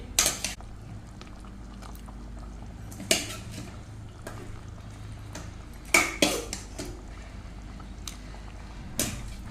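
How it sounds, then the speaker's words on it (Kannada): Fish pieces go into a pot of boiling masala for fish curry, with a low simmering bubble underneath and several sharp clatters of the pot and utensils spaced apart. "ಇವಾಗ ನಾನು ಇದಕ್ಕೆ ಮೀನನ್ನು ಹಾಕ್ತೇನೆ"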